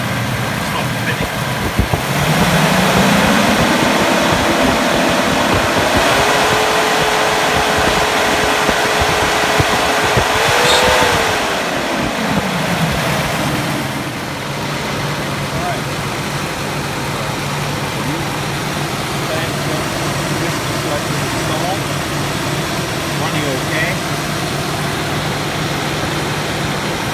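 A Mercedes W126 V8 from a 420SEL or 560SEL runs steadily while its fan clutch spins, a continuous engine drone with a rising then falling whirring tone near the start, heard close with no talking.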